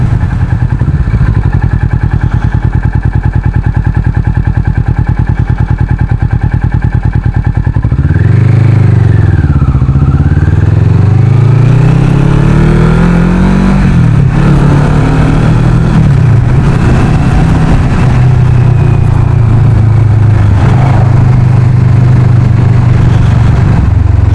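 A Kawasaki Vulcan S motorcycle fitted with an Arrow exhaust is ridden. The engine runs loud and close, rising and falling through several revving accelerations and gear changes with no talk over it.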